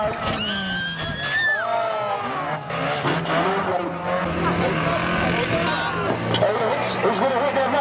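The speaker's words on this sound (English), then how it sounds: "He's going to hit that ramp, he's going to hit it." A car engine revs hard with tire squeal and skidding as it speeds toward a ramp at a rollover competition at Stansted Raceway, under steady loud crowd noise and excited commentary.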